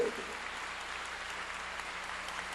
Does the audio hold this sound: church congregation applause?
yes